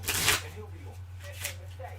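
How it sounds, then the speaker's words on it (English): Playing cards riffled quickly in a brief loud burst, then lighter shuffling and rustling under a steady low hum. "Shuffle them up."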